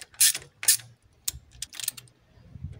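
Ratcheting torque wrench tightening flywheel bolts to 10 newton metres on an Alfa Romeo/Fiat JTD engine: a few bright, close metallic clicking bursts in short repeated pulls, with a faint low hum beneath.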